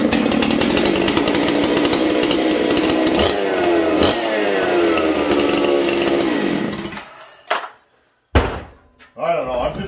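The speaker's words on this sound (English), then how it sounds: "That's one of the best saws I've ever built for starting and running." A rebuilt chainsaw, one in a line of saws being fired up, runs loudly close by and revs with falling and rising pitch, then cuts out abruptly, followed by a few short bursts and clunks.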